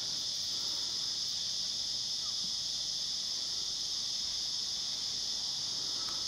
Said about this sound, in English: That's the cicadas you can hear